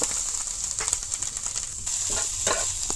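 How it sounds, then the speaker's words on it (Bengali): Coconut and jaggery sizzle in ghee in a pan as a sweet is made with mango and flour, giving a steady close hiss with light scraping stirs, no talking. "এই যে নারিকেল আর গুড়টা এখন দিয়ে লাইলাম, একসাথে দিয়ে লাইলাম।"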